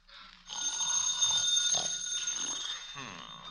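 A telephone bell rings continuously for about two and a half seconds in a classic radio drama, fairly loud and close, then cuts off.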